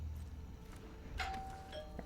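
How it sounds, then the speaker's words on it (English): A doorbell chimes in an apartment building: a single faint electronic tone sounds partway through, ringing out briefly over quiet room ambience. "sorry for that doorbell ringing that you're hearing"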